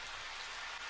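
Steady rain falling, a dense continuous hiss of drops on surfaces, close and even throughout with no voices.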